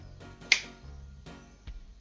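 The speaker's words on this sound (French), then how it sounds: "Il claque des doigts." A magician on stage gives a single sharp finger snap, crisp and close, set against quiet room tone with a couple of softer clicks around it.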